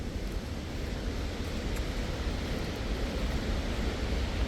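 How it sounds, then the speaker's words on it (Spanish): Loud, dense rushing water from a waterfall roars continuously through a humid, jungle-like forest, a steady broadband wash with no pauses and no voices. "Re fuerte se escucha el agua"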